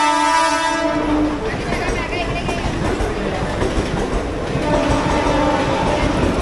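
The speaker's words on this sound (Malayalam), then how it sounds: "തൊട്ടപ്പുറത്ത് platform number 6-ൽ സൈനഗർ Shirdi Mumbai CSMT Vande Bharat വന്നിട്ടുണ്ട്." A Vande Bharat Express train at a railway platform sounds a loud horn, then its carriages rumble and clack close by in a steady, noisy wash.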